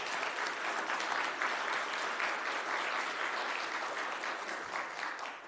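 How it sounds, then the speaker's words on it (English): Steady applause from a church congregation at a Palm Sunday service, dense continuous clapping that holds for several seconds at an even level before tapering slightly at the end. "Please give them a huge round of applause."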